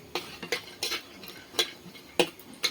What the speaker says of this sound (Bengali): তেলটা আমার একটু গরম হয়ে গেলে দিয়ে দেবো ফুলবড়ি। আর ফুলবড়িটাকে একটু নেড়ে ছেড়ে ভেজে নেব